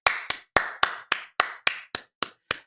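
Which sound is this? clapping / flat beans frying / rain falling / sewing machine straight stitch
clapping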